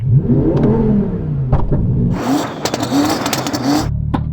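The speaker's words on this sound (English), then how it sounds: "So we listen to your Audi, Yianni." A tuned Audi TT engine revs hard several times, rising and falling in pitch with a loud, rough roar, close by, no talking.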